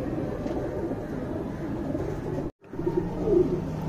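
Young tournament pigeons coo softly in a close, repeated low murmur, broken by a short silent gap before the cooing resumes.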